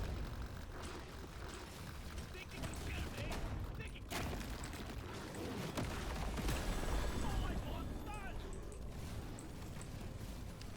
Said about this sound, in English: a decent number of the explosions should land